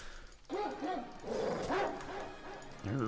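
A person imitates the Dalmatian bark from 101 Dalmatians with short, yelping vocal barks in quick bursts, close and fairly quiet, repeated several times over a few seconds.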